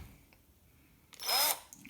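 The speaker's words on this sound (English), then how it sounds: "So here we have the drill." A power drill used to bore into a glass bottle resting on a work surface starts with a short loud whirring burst after a quiet stretch with faint background noise.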